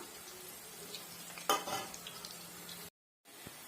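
Pakoda deep frying in hot oil for a crispy snack, a steady dense sizzle with bubbling, a sharper burst of crackle midway, then a brief cut to silence.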